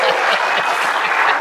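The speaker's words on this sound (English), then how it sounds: "That's an applause line." An audience at a talk on Medicare for All breaks into dense, steady applause, a close and loud wash of clapping with no break.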